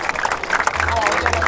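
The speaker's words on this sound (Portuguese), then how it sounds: "Palmas pra essa batalha!" A crowd at an outdoor street rap battle in Barueri, São Paulo, claps and cheers in a dense, steady wash of applause, with voices shouting within it.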